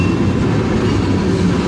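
A BNSF freight train hauling oil tank cars rolls past close by, a loud, steady rumble of wheels and cars with no break and no voices.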